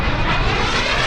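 A turbine-powered model jet called the Dominator, about 18 kilograms, passes loud and close at an air show with a sustained roaring whine, no voices.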